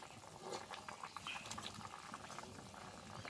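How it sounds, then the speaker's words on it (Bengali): Fish curry with gathi taro and potato bubbling in a pot as fried fish simmers in the gravy, a steady close boil with soft popping and patter throughout, no talk. "মাছ দিয়ে আর বেশ কিছুক্ষণ ফুটিয়ে নামিয়ে দেবো।"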